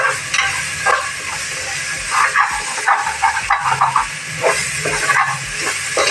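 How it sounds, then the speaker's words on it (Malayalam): Chopped onions stirred as they fry in a pan for chicken curry, a steady loud hiss of sizzling oil with repeated scraping strokes of the spoon, close up and with no talking. "സവാള അരിഞ്ഞതിട്ട് ഇളക്കുവാണ്."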